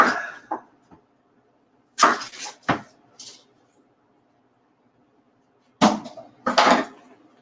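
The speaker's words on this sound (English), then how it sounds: "So you can see, I am chopping onions." Onions are chopped with a knife on a cutting board in a home kitchen. A few sharp, close knocks come in small clusters, separated by long quiet stretches, and no one speaks.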